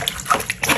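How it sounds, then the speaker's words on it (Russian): A mop plunged into a bucket of water while cleaning a tiled bathroom, giving a short, close, loud slosh and splash with dripping, no voices. "Хорошо отмываю моп от лимонной кислоты. Опускаю в эту воду."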